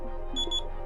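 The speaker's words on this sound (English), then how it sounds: "alarm." An alarm clock goes off in a short burst of high, pulsing beeps over a low background hum, brief and fairly faint.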